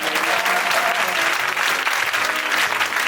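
A church congregation claps loudly and continuously, a thick wall of hand claps with faint crowd murmur beneath it.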